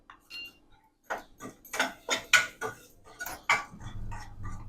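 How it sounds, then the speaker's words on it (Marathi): Roasted peanut pieces with salt and powdered sugar are stirred in a wok, producing a run of rhythmic rattling scrapes and clatters, close and fairly loud, ending in a softer rustle. "हा त्याचा कोट होईपर्यंत ढवूया"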